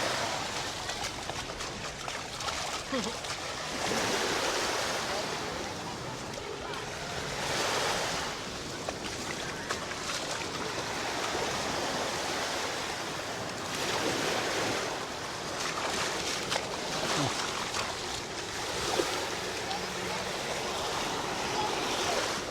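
Surf rolls in and crashes in long swells at Siesta Key beach, Florida, with wind buffeting the microphone throughout; no talking.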